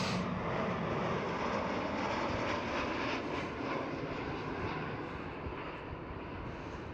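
Iberia Airbus A320neo departing Schiphol, its engines a loud steady broadband roar that holds through the whole stretch and eases slightly toward the end.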